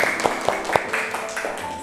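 Students in a classroom applaud a presenting group with light, quick clapping under a steady wash of chatter, brief and moderately loud.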